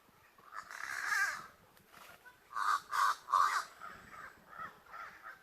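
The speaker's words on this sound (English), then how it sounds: "Crazy set of birds." Crows perched in a coconut tree give a series of loud, harsh caws, one long call followed by several clustered bursts and fainter calls trailing off.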